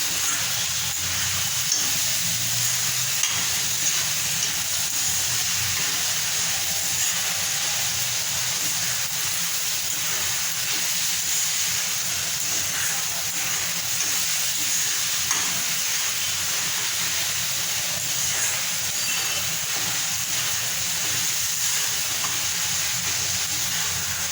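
Onion and tomato fry in a pan with a steady, even sizzle and hiss that continues without a break, close and fairly loud, with no talking.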